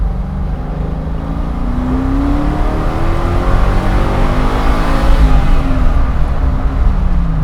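A loud engine in a 600hp custom 1966 Ford Mustang Fastback revs and rises in pitch under steady road roar, heard from inside the car as it accelerates.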